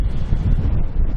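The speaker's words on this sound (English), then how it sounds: "Pretty sustained wind of around 15, 20 knots, gusts of 30." Strong wind of 15 to 20 knots gusting to 30 buffets and roars across the microphone in a continuous low rumble with uneven gusts, loud and close, with no voices.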